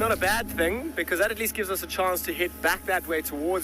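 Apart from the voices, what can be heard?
No distinct noise like a dog, phone or traffic.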